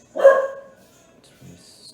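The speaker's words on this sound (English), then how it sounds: "If you guys hear barking," A single sharp bark from a dog indoors rings out close and loud, then trails off, followed by a brief spoken phrase and faint high squeaks.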